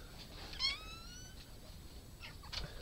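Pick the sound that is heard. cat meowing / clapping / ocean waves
cat meowing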